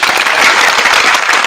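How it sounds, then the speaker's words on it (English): A live audience at a Monday night history class claps loudly and steadily, a close, dense burst of many hands that fills the whole moment without talk. "Yeah, clap it up."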